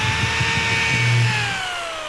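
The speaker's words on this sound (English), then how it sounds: "you're just going to drill your pilot holes first" A power drill boring pilot holes into wood for an end table, a steady close whine with a brief louder rise in pitch partway through, heard alone.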